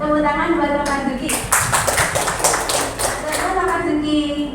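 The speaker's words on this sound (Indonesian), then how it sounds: "Tepuk tangan buat Pak Zuki." Classroom applause for a teacher at a school session on positive culture: a burst of clapping hands that starts about a second in and runs to the end, mixed with voices talking and children nearby.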